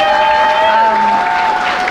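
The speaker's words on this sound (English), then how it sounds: "I'm gonna ask for another big round of applause for Ibrahim and Siobhan" Audience applause after a conference session on US–Cuba relations in New York, a steady wash of clapping for about two seconds with a sustained tone running underneath it.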